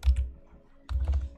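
Several quick bursts of keystrokes on a computer keyboard with many language layouts, close and fairly loud. One cluster comes at the start and another after a short pause.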